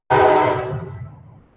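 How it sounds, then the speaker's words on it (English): A passing train sounds a loud, sustained horn blast from fairly close by. The tone starts abruptly and fades out over about a second and a half, and no one speaks over it. "Here comes a train. It's going to get noisy here for a second."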